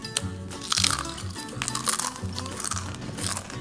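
Cool Ranch Doritos chips crunched close up, a series of loud crisp bites and chewing crunches in irregular rhythm, alone without talk.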